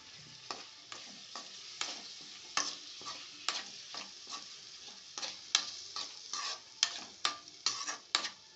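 Chopped onions for a masala dosa filling fry in a pan under a soft constant sizzle, with a string of sharp, regular stirring scrapes and taps from a spatula ringing out close by.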